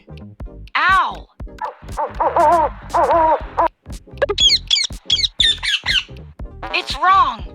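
A parrot squawks in a cartoon animal-sound quiz game, giving a run of sharp, loud, repeated calls that rise and fall, close and clear, with voice-like chatter mixed in.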